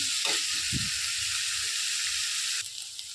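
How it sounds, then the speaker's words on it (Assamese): Onions fry in hot oil in a pan for an Assamese rohu fish tangy curry, giving a steady, close sizzling hiss that carries on without a break, plus a few soft bubbling pops near the start. "এতিয়া ফ্ৰাই কৰি আছোঁ, অলপমান ৰঙা হোৱালৈকে ৰখিম।"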